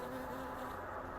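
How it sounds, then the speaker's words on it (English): A bee buzzes steadily in a video game, a close, continuous droning hum that holds at an even level from start to finish with no talk over it. "A bee!"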